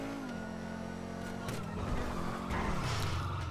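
Sports car engine revving in GTA V Online, a loud steady drone with rising and falling pitch and a few sharp pops as the throttle blips, heard up close without speech.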